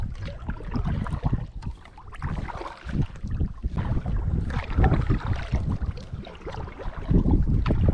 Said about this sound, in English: that wind is coming right out of the west and blowing us backwards.